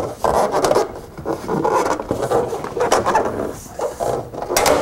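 Metal ridge cap on an H-Loc metal roof being pushed over Z-closures and snapped into place, giving continuous close scraping and rasping of sheet metal with small knocks and no talk.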